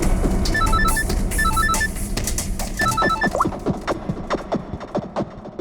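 A telephone rings in repeated electronic trilling bursts, then gives way to scattered clicks and knocks, moderately loud and close.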